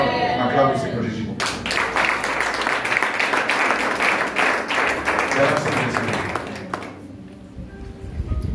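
Congregation in a church service clapping and cheering together, a dense sustained wash of applause from about 1.5 to 7 seconds, with voices mixed in throughout.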